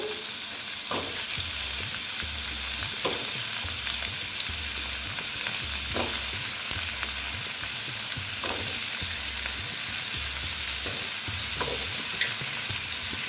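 Pieces of chayote squash fry in a pan for a potato and squash dalna, giving a continuous crackling sizzle with a soft scraping stir roughly every couple of seconds, close and steady.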